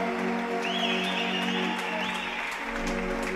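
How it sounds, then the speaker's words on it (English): An arena crowd at a ball hockey world championship opening ceremony applauds steadily as a contingent walks onto the floor, a continuous wash of clapping heard from some distance with no talk over it. "walk out onto the floor to a round of applause"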